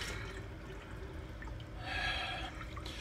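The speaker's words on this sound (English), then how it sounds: "Let me fill both these things up with water." Water pours into containers for a pet water fountain in a basement, a continuous close trickle and splash that swells louder toward the end.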